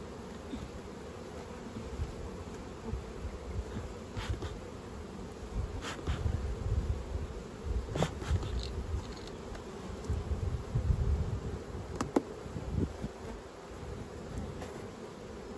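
Honeybees buzzing densely around an opened brood box during spring hive management, a continuous close swarm drone with occasional louder passes near the ear.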